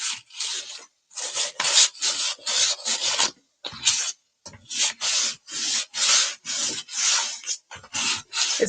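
Sandpaper rubbing over a painted vintage oval wooden frame to distress the finish, a run of rhythmic rasping strokes with brief pauses between them, close and fairly loud, with no voices.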